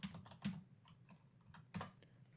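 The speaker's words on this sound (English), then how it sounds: "you're gonna hear me clicking around because I'm doing research while we're talking here" Mouse clicks and keyboard typing at a computer during research, a quiet, irregular patter of keystrokes with a few sharper clicks close by and no voices.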